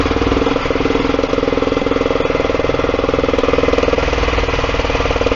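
A Kawasaki Mule 4010 utility vehicle engine runs at idle with a cylinder misfire, giving a steady, loud, close-up chugging rumble with an uneven pulsing beat that continues throughout, with no voices.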